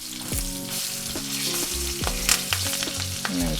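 Garlic and herb lamb chops searing in a pan, a loud continuous sizzle and crackle, close up, with tonal background music running underneath.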